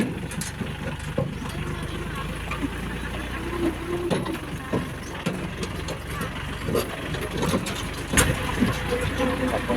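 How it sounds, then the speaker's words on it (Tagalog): Tractor engine chugging steadily during an uphill ride to the Kabigaan small water impounding project, with clanks and rattles over the running motor and voices in the background. "Buti na lang may traktora."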